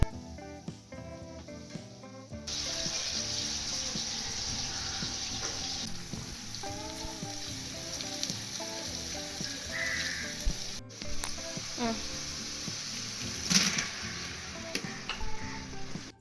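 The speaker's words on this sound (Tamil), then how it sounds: "வெங்காயம் எண்ணெய் ஊற்றிட்டு வெங்காயமும் பச்சை மிளகாவும் வந்து போட்டு வதக்க ஆரம்பிச்சிட்டாங்க" Onions and green chillies sautéing in oil for chicken biryani, with a steady hiss of frying under a quiet background music bed, plus occasional stirring scrapes and a clink or two.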